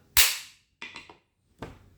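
A cocked, locked pistol fires when struck during a drop safety test: one sharp, loud report followed by a few fainter clacks and knocks of the mechanism and a second hard impact.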